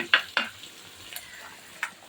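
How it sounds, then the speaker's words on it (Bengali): Onions and chillies fry in a pan with a quiet sizzle, broken by a few sharp clinks and scrapes of a spatula stirring. "ভাজা মাছের জন্য পেঁয়াজ মরিচ ভেজে নিচ্ছি"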